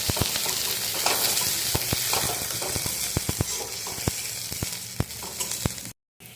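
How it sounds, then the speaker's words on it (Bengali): Onions frying in a wok (kadai) after potatoes and pointed gourd: a loud, continuous sizzle close by, with sharp clicks of stirring scattered throughout, before a sudden brief silence near the end. "এবার আমি পেঁয়াজগুলো দিয়ে দেবো কড়াইতে"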